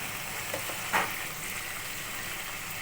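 Hilsa fish masala with yogurt and salt sautéing in a pan, a steady close hiss of frying with one soft scrape of stirring, no talk.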